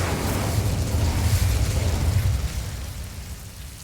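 A fire spell cast in the video game Hogwarts Legacy, heard as a loud, sustained roaring burst of flame that fades toward the end.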